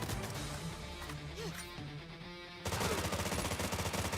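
Rapid bursts of video-game gunfire, a fast rhythmic rattle that grows louder and denser partway through, with a warbling game tone and faint voice sounds in the first half.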